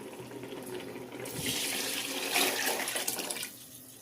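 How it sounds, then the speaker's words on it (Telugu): Water being poured into a pot of mutton biryani over rice and meat rushes in a steady splashing stream for a couple of seconds, moderately close, then tapers off. "ఇప్పుడు వాటర్ వేసుకుంటున్నాం."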